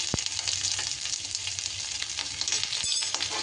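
Crushed ginger sizzles in a frying pan while shukto daal is cooked: a steady close hiss with a couple of sharp taps from a spoon or pan, and no talking.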